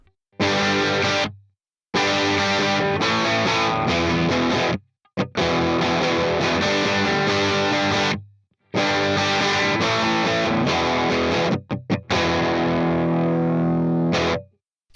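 Heavily distorted electric guitar chords ring out loud, struck in several long sustained bursts separated by brief silences.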